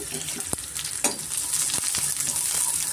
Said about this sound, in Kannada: ಸ್ವಲ್ಪ ನಾವು ಇದನ್ನ ಫ್ರೈ ಮಾಡ್ಕೊಳ್ಳೋಣ ಫ್ರೆಂಡ್ಸ್ ಈರುಳ್ಳಿ ಇಷ್ಟು ಫ್ರೈ ಆದರೆ ಸಾಕು